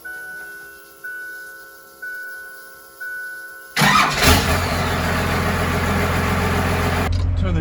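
A Cummins 5.9L diesel in a King Ranch truck starts up: four evenly spaced warning chimes, then a sudden crank and catch into a loud, rumbling idle that continues, close by.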